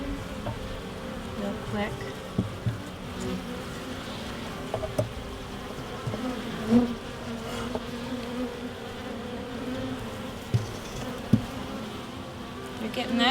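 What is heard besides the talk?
honey bees buzzing in an opened hive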